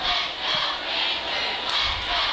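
Spectators at a Snohomish High School football game cheer in a sustained, swelling roar, voices merging into rhythmic surges that rise and fall across a couple of seconds.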